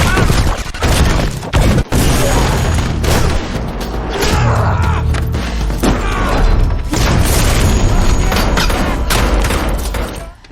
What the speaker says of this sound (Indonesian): Eve masuk ke gudang untuk mengambil beberapa bom dan meledakkan para anggota sekte